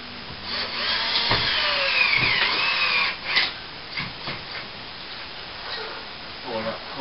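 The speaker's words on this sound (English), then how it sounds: "we'll just put some screws in up there." Screws are driven into a fibrous plaster ceiling with a power tool, giving short whirring bursts in the first few seconds, followed by quieter knocks while a person talks.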